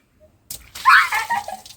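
Water balloon bursting with a splash on a child's head at close range, a short wet slap and spatter after a brief quiet pause, with children's voices around it.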